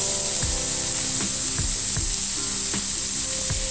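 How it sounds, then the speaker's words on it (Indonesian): Grated jicama stir-fried with dried shrimp and garlic in a hot pan, a steady loud sizzle with regular soft scraping strokes of a spatula about every half second. "Ini bisa kita tumis dan kita aduk campur rata."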